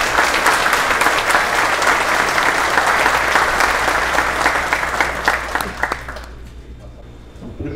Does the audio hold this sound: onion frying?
no